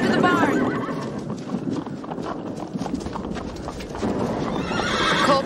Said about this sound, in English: I found Jimmy's horse